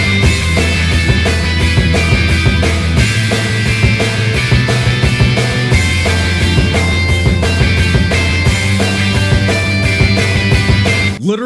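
Programmed rock drum pattern of kick, snare, hi-hats and crash, loud and continuous in a steady driving groove, heard inside a dense full mix.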